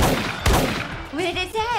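A prop gun firing in a comedy sketch about a crime board game: one sharp, loud report near the start, followed by excited voices reacting.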